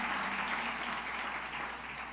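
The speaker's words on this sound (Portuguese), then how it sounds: "Vamos aplaudir?" Church congregation applauding indoors, a brief, even wash of clapping at moderate volume that continues without pause.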